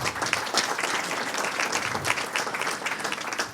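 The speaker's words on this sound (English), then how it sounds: "Let's give them a round of applause." Audience applause for a panel of experts at an event in San Diego: steady, dense clapping from a crowd that fills the room and holds an even level throughout.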